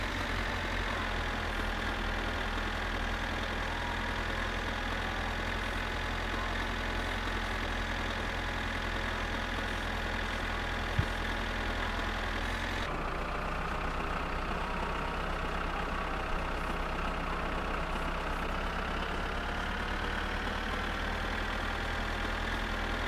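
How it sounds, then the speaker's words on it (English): Idling tractor engine in the driving game My Summer Car, a steady low-pitched rumble that runs continuously at a constant level, shifting slightly in tone partway through, with no voices over it. "I'm getting PTSD from the tractor sound."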